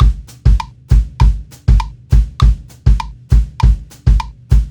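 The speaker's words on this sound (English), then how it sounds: "what I like to do is add the bio or bomba bass drum pattern underneath" A drum kit plays a steady repeating bomba bass drum pattern of punchy bass drum hits with sharp snare and tom strokes, loud and close, no voices.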